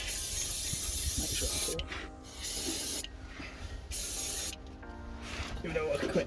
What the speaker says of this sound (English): what we'll do is a bit of degreaser